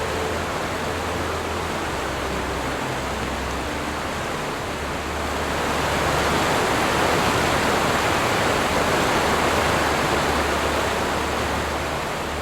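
Water tumbling down a waterfall into a bay in Prince William Sound, Alaska, a continuous broadband rush heard at a distance that swells slightly louder partway through.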